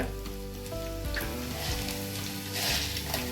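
Urad dal frying in hot oil with fresh ginger, garlic, cumin and mustard seeds for hotel-style sambar, a close steady sizzle with light crackles and faint stirring.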